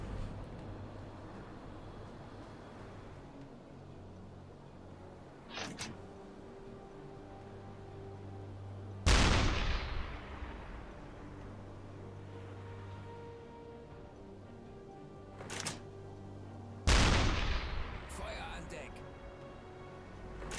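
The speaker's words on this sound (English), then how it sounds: "We're using high explosive ammo, or we were, and now we're on armor piercing" A submarine deck gun firing armor-piercing shells at a ship in the game UBOAT, two loud booming shots about eight seconds apart with fainter distant reports, over a low engine drone and occasional talk.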